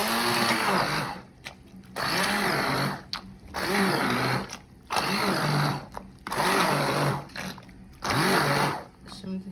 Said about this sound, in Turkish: Ben hepsi böyle blenderdan çekeceğim.